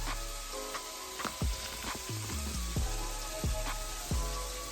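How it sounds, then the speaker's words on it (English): Zucchini noodles sizzle steadily in a hot oiled pan for a Cajun keto pasta, with a continuous frying hiss broken by several louder bursts of crackling and stirring, close up and with no talking. "I'm gonna then add my zucchini noodles."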